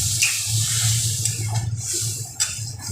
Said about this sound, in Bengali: এবার পরিমাণ মতো জল দিয়ে আমি মশলাটার সাথে ভালো করে মিশিয়ে নেব